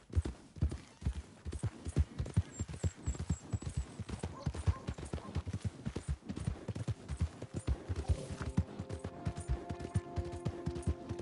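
Horse hooves clip-clop in a steady rhythmic gait in Red Dead Redemption 2, close and distinct, with faint ambient hum and a brief tonal sound partway through.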